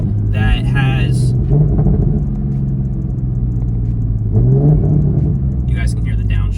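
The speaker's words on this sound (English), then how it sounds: "you guys can hear the downshifts" A Toyota MKV Supra's engine drops through downshifts, its low rumble swelling into rising rev blips twice, with someone talking over it throughout.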